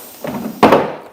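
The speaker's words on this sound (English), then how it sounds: "Doors close," Landing gear doors on an RC F-16 model jet by BVM close with two quick, close wooden thunks, the second louder and sharper, with no talk over them.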